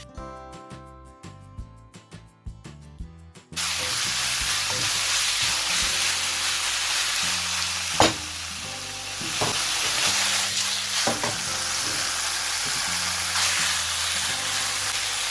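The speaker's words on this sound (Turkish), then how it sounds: "Direkt yüksek ateşte kavuruyoruz tavuğumuzu." Four pieces of chopped chicken thigh hit a pan with a little oil over high heat, breaking into loud, steady sizzling and spattering that runs continuously, with an occasional stir or pan knock, after a brief quiet start.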